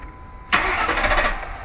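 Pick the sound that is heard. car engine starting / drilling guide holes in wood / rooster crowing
car engine starting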